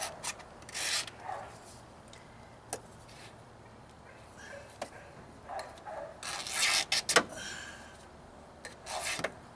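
A utility knife blade is dragged backward to scribe a line on material for a Jeep Wrangler YJ dash water shield, heard as a few short, scratchy scrapes spread apart, with a longer gritty pass near the end, close and fairly quiet.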